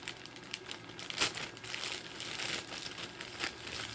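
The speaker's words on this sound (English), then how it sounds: "supposedly you could just pull to open it." Crinkling plastic packaging for crested gecko supplies being tugged and pulled open, with rustling bursts and a sharper crackle near the start, close by and fairly quiet.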